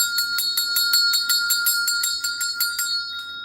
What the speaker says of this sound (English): What y'all think about the little bell?